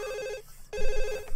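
A telephone rings in The Sims video game: two electronic trilling bursts separated by a short gap, clear and moderately loud with nothing else over them.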